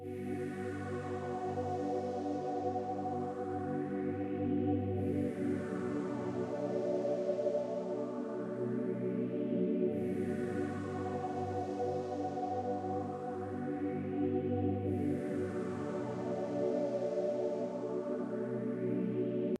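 A sustained, bright synth pad plays a slow repeating pattern of jazzy 7th and 9th chords, each lush chord swelling and fading in a steady cycle of about five seconds.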